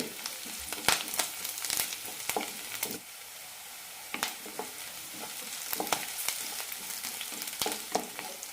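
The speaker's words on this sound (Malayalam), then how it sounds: "സവാള ചോക്കാൻ തുടങ്ങിയിട്ടുണ്ട്" Onions fry and sizzle in a pan for pappad curry, with a steady close hiss and frequent stirring scrapes and clacks of a spoon against the pan.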